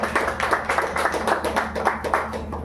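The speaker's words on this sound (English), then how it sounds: "a big round of applause for Captain Viola" Brief crowd applause at a healthcare partnership event between UPHMC and RISE, a steady patter of many hands clapping close by for a few seconds.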